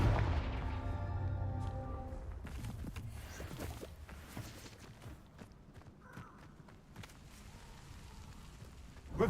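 A Confringo fire spell in Hogwarts Legacy, starting with a loud, roaring fiery blast and crackling bursts that fade into scattered rattling impacts and a low rumble.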